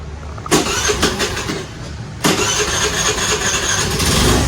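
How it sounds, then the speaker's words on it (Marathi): A second-hand motorcycle engine cranking and catching twice in close succession, then settling into a loud, steady idle close by. "हवा असेल तर मी ही गाडी स्टार्ट पण करून दाखवतो."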